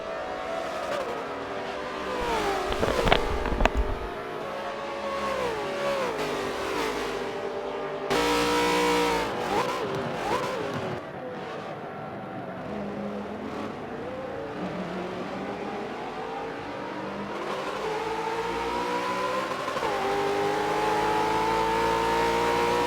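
Race cars in a Cougars Cup finale howl around the track, engines revving and shifting as cars pass near and far, with occasional tire squeal and no voices.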